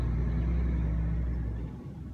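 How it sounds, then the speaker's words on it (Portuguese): A truck on a roadside in Brazil passes by with a loud, close low engine rumble that holds steady, then fades toward the end. "O caminhão passando aqui."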